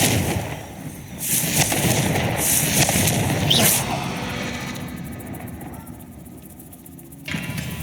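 Confringo blasting-spell explosions in the Hogwarts Legacy video game: loud crackling blasts and bursts that come in several waves, close and dense, then fade to a softer rumble.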